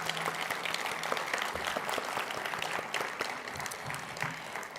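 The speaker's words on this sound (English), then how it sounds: "let's give a round of applause to our amazing speakers with their amazing talks" Sustained audience applause from a crowd honoring speakers at a preservation event, dense steady clapping throughout, fairly loud and continuous.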